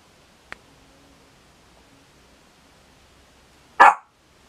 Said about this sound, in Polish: Ona tam coś widzi za oknem i szczeka.